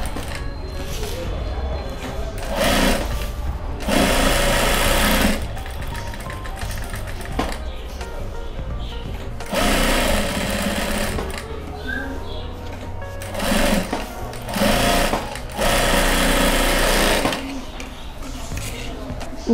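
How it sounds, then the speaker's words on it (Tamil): A sewing machine stitching all four sides of a card holder panel runs in several loud, steady bursts of rapid needle chatter, stopping and starting between runs, with a person talking during the pauses. "இந்த மெயின் பீஸில் வச்சு தைக்க போகிறோம். சுற்றி 4 பக்கமும் தையல் போட்டுறணும்."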